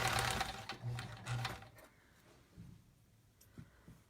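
Sewing machine stitching quilt leader pieces, a close mechanical whir in quick bursts that fades into quieter handling clicks and light rustling near the end.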